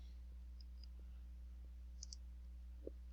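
A computer mouse clicks a few times, the sounds sharp, faint and isolated against a quiet room hum.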